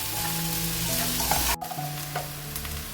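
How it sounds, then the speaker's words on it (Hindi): Onions fry in a pan for a home-cooked bhindi pyaz dish, a continuous close sizzle with utensil scraping and a low steady hum, briefly cut out midway before the frying resumes. "जब हमारा प्याज फ्राई होगा, हमने हाफ फ्राई जब कर लेना ना प्याज"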